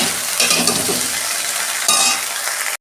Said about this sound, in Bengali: ঢ্যাঁড়সটা ততক্ষণ ভাজা হোক